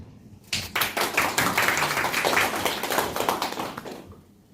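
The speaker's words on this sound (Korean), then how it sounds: "영광의 박수를 올려드립니다" A church congregation claps together in a steady, dense burst of applause that starts abruptly, holds for about three and a half seconds, then fades out.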